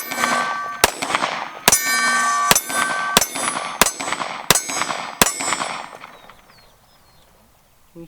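Pistol rounds from a Sig Sauer P320 X Compact with a Romeo1 Pro sight ring off a steel silhouette target, about eight sharp metallic clangs in a steady rhythm, each with a bright ringing tail, the last fading into quiet.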